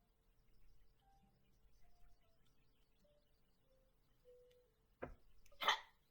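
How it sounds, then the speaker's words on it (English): A single human hiccup, a sharp abrupt catch of breath near the end after a quiet stretch, followed by a brief louder vocal burst. "I just had like a hiccup."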